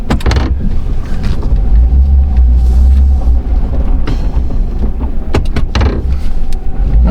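A Chevy/GMC truck with a newly replaced 4L60E automatic transmission drives and shifts, giving a loud, steady low engine and road rumble throughout with a few brief knocks. No one speaks.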